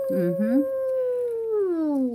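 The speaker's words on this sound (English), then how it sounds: "And then our dogs start howling because they hear the coyote." Dogs howling in reply to a coyote at night, one long, loud, close howl sliding slowly downward in pitch, with a short yelp at the start.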